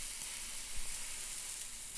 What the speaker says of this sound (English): a thick steak sizzling on a backyard Barbie